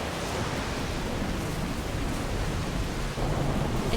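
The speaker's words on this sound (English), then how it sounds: "This rain is loud." Heavy rain in the video game Death Stranding, a dense, unbroken roar of downpour filling the whole stretch, loud and close with no pauses or voices.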